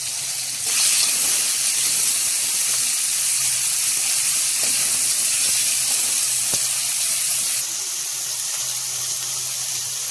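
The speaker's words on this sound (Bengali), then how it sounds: "এখন চিংড়ি মাছগুলো ভেজে নেব।" Steady loud sizzling hiss of shrimp frying in hot oil, continuous throughout with a slight drop near the end, no talking.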